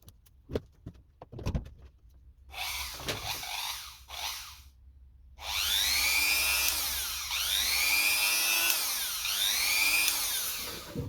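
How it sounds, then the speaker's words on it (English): A PowerPlus POWE80060 rotary tool clicks and handles, then spins up with a high whine, stops, and runs again steadily with rising and falling pitch sweeps as speed changes, close and fairly loud. "let's check it if it works though"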